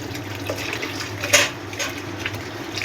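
Soya chunks are washed in cold water, with running and splashing water swishing close by and a brief louder splash midway.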